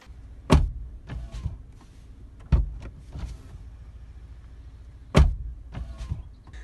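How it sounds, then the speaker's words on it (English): Chevrolet Trailblazer 3.6L V6 (Holden Trailblazer LTZ) door shutting with three sharp, close thumps, each followed by the softer whir of the power windows moving. "windows go down every time you open car door and go up when you close it."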